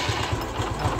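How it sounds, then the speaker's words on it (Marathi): A car engine turns over and runs with a close, rough, fast thumping pulse for about a second. "गाडी चालू कर."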